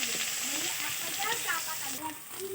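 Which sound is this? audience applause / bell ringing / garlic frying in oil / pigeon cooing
garlic frying in oil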